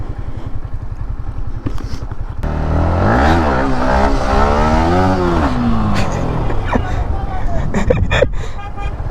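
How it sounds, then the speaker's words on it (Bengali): A Yamaha MT motorcycle revs hard for a wheelie, its engine note climbing and falling in loud, close sweeps after an idling start. "এখন MT দিয়ে একটা হুইলি ট্রাই করবো অ্যান্ড রোল ট্রাই করবো"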